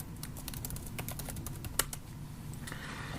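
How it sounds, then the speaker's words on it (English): Someone types on a computer keyboard in quick, uneven bursts of close clicks, with a single sharper keystroke partway through and no voices. "So I'll just type that in here."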